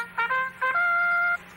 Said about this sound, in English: This section contains an instrument called a trumpet.